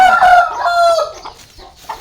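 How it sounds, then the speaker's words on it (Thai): Farmyard chickens, about twenty free-range birds in rural Thailand, cluck and call loudly and close at afternoon feeding time, with a rooster-like crowing note mixed in. "ไก่ก็ได้เวลากินเหยื่อแล้ว"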